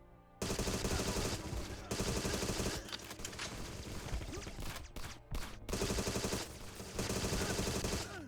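Rapid video-game gunfire while shooting at enemies, loud and dense automatic bursts with brief gaps, heavy and continuous through most of the stretch.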